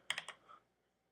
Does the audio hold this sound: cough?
no